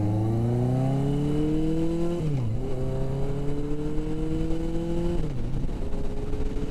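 Yamaha XS1100 motorcycle engine revving as it climbs through gears, pitch rising steadily then dropping sharply at each of two upshifts, loud and close with road noise and no talk.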